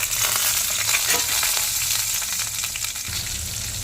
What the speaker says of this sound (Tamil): மஞ்சள், சீரகம், பெருங்காயம், வரமிளகாய், புளி எல்லாம் ஒட்டுக்கா போட்டு வதக்கிக்கலாம்